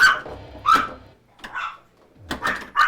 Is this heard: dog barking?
yes